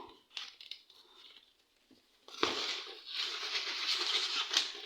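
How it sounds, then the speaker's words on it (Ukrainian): A small plastic bag crinkles faintly nearby during houseplant repotting, with a short rustle first and then a steadier, louder stretch of crackling handling. "зараз я такий пакетик сюди підставлю"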